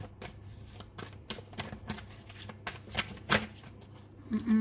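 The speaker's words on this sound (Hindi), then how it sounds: "चलिए अब मैं कुछ और भी आपके लिए कार्ड्स निकाल लेती हूँ, देख लेती हूँ क्या आएगा।" Tarot cards being shuffled by hand nearby, a run of crisp riffling and slapping bursts in an uneven rhythm with no talk over it.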